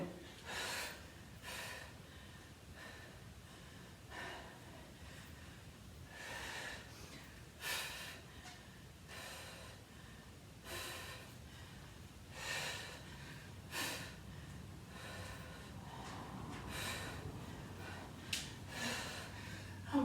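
Heavy, rhythmic breathing during an upper-body hypertrophy workout: repeated sharp gasps and snorting exhales, close to the mic, spaced every second or two across the stretch with no talk.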